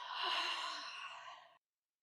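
A single long, airy sigh-like exhale during a slow yoga flow, close and fairly soft, ending abruptly in silence.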